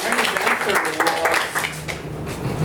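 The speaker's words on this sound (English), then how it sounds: "Guilherme, a round of applause, please" Brief applause at a meeting, a short round of clapping from a modest group, fairly close and quick, mixed with some talk and room noise.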